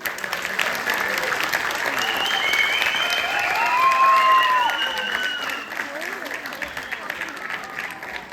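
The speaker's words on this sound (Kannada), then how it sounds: "ಮತ್ತೊಮ್ಮೆ ಜೋರದ ಚಪ್ಪಾಳೆ" Steady applause from an audience at a Deepavali 2025 cultural event after a child's Kannada speech, a sustained broadband wash of many hands clapping for several seconds, swelling in the middle and tapering slightly, with faint voices and whistle-like tones mixed in.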